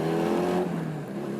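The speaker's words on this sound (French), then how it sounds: "vous n'entendez pas seulement les putains d'échappement." Motorcycle exhaust roaring while riding, a loud steady engine drone with a strong low rumble that dips slightly as the revs change, close to the microphone.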